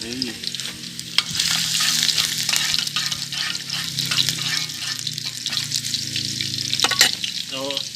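Eggs fry in oil at a campsite, giving a loud, dense crackling sizzle that stays close and continuous, with a few brief knocks of utensils.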